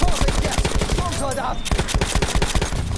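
A light machine gun fires in Battlefield 1 as a rapid, steady stream of loud close shots, with a voice briefly mixed in over the burst.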